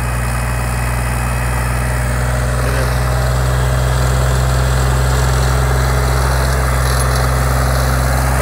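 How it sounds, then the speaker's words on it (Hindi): A Sonalika tractor engine runs under full load in third low gear, reported to be smoking, giving a steady, loud, continuous drone with strong low rumble and vibration throughout, no talking. "फुल लोड में ट्रैक्टर चला रखा है, लो के तीसरे गियर में जो है ये ट्रैक्टर चल रहा है।"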